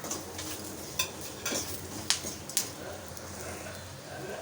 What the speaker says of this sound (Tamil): எல்லாத்தையும் சேர்த்துட்டு நல்லா மிக்ஸ் பண்ணி விட்டுக்கோங்க